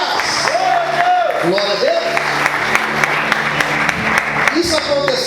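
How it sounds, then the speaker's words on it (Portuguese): A church congregation claps and cheers during a sermon, steady dense applause with scattered shouts and whoops while a voice speaks and sings over it. "Você pode aplaudir a Deus."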